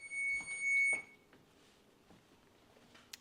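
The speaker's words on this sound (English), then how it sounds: "Okay, timer has gone off." Kitchen timer alarm going off while baking homemade fries: a loud, shrill electronic beep held for about a second, then cut off, followed by faint kitchen handling noises.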